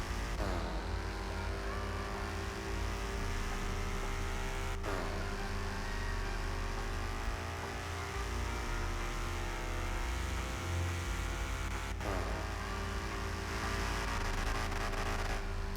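A NASCAR race car in the Roblox game accelerates toward top speed, its engine droning loud and continuous with rising revs and two sharp gear-shift breaks, no voices.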